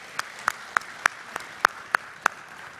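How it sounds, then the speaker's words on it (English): Applause from a conference audience at an SOE international conference, heard as a sparse, steady run of about seven separate claps spaced evenly apart, moderately faint, with no voices. "So I think you all deserve a round of applause"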